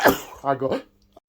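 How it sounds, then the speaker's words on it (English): A single sharp sneeze bursts out at the start, followed by a short voiced tail and a faint click, close to the microphone. "I tried to turn the camera off before I sneezed"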